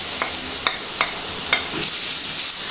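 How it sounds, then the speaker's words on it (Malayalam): Sliced onions dropped into hot oil for a stuffed porotta snack, giving a steady close sizzle with a few sharp crackles and a brief stir in the middle, no talk. "ഇനി നമ്മൾ രണ്ട് സവാള സ്ലൈസ് ചെയ്തത് ഇട്ട് കൊടുക്കാം"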